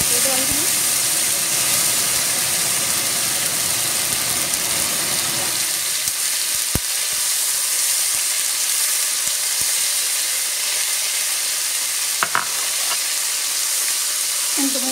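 Tomatoes sizzling in melted butter in a pan for butter chicken, a steady broadband hiss and crackle throughout, louder at first and settling into a softer continuous fry with a few small clinks.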